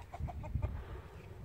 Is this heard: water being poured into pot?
no